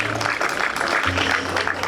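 A crowd at an outdoor glosa festival in Manlleu applauds, a continuous mid-level patter of many hands clapping together, with a low hum running underneath.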